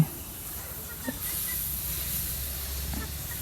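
Water splashed onto a hot mould for chitoi pitha, a Bangladeshi rice cake, gives a steady close hiss of steam that carries on evenly for several seconds, with a faint tap or two and no speech.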